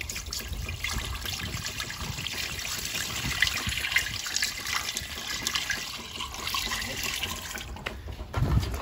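Steady water flowing and trickling nearby, a continuous broadband wash with small splashy fluctuations and no voices.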